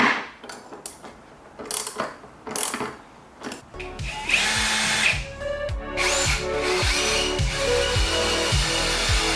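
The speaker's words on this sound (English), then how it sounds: "move on to the next step, which will be drilling our holes" Power drill boring holes for a rack in a mini truck bed, starting with short bursts of whirring and clicks, then a sustained loud grinding whine with the motor labouring under load.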